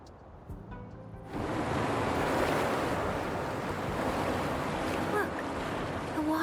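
Water drains away inside a Wuthering Waves game area: a sudden rushing, surf-like wash swells up after a brief quiet start and then holds as a broad, steady roar for several seconds with no talking.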